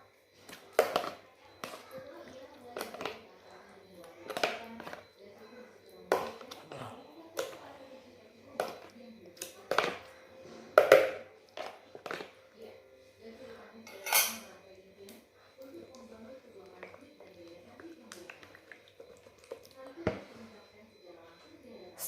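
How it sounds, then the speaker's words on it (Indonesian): Eggs are stirred into chicken pieces in a bowl, giving irregular clinks and scrapes of a utensil against the bowl, with quiet soft mixing sounds between the sharper knocks. "Kita aduk dulu ya telurnya sampai merata dengan ayamnya."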